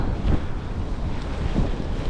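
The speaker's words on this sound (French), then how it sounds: "Il y a un vent de dingue." Strong headwind battering the microphone while mountain biking near London, a loud, constant broadband roar with gusty low thumps, no voices.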